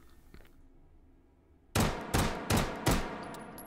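An M93R pistol in Hot Dogs, Horseshoes and Hand Grenades firing single rounds. After a quiet stretch, four sharp, loud shots ring out close together at an even, steady pace, each with a short echoing tail.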